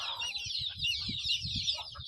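Desi free-range village hens cluck softly in short, repeated calls close by on a small farm, with a steady high background chirr around them.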